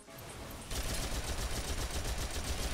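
Rapid automatic gunfire from Phantasy Star Online 2 in a tunnel, a steady rattling stream of shots starting abruptly after a brief lead-in and continuing loud and unbroken to the end.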